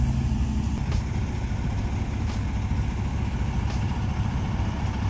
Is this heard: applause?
no